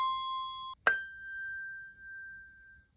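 Two Montessori bells struck one after the other during a grading lesson. The first rings a steady tone that is cut short, and the second is struck sharply and rings out clearly for a couple of seconds, close and alone.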